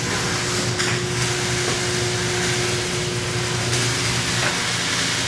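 A wire chopping line's blower and shaker table run together in a steady, loud, continuous roar, with a constant mechanical hum beneath the broadband rush and a few faint knocks.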